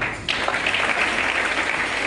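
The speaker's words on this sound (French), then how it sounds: "Vous l'applaudissez encore." A crowd breaks into steady, dense applause that starts abruptly and continues evenly, fairly close and loud, with no voices over it.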